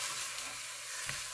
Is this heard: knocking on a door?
no